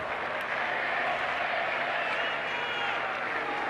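A rugby stadium crowd at an England v Argentina match applauds and cheers in a loud, sustained roar that fills the whole stretch, a dense wash of clapping and voices with no single speaker clear.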